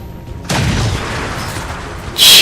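Incoming gunfire in a video game, a sudden heavy boom followed by a sustained roar of fire, loud and close, with a sharper burst near the end.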